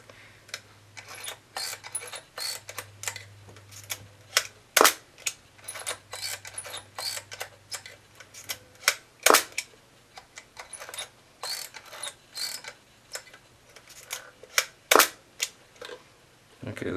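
Komaflex S medium-format camera shutter firing repeatedly, a series of sharp mechanical clicks spaced a second or two apart, with a few louder snaps, close and clear over a faint low hum.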